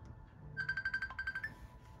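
A phone ringtone plays a fast string of bright, evenly pulsed electronic tones for about a second, faint against a low rumbling background.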